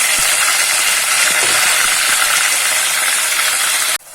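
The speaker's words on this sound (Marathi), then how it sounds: "आता तेल गरम झालेलं आहे त्यानंतर त्याच्यामध्ये घालूया आपण हे खोबरं आणि काज्याचं वाटण" Coconut and cashew paste drops into hot oil for a Malvani chicken curry, a loud, dense, continuous sizzle close up that cuts off sharply at the end.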